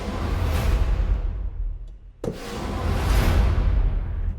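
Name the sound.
8Dio Hybrid Tools 2 drum kit and taiko swell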